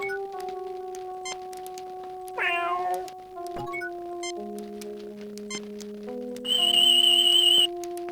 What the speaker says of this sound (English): Terran cat, feeling very self-satisfied.